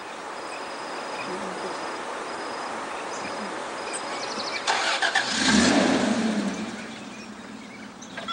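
A car engine cranks and catches, rumbling for a couple of seconds before settling, set against steady chirping insects at a rural Bolivian roadside where a sick cow is being moved.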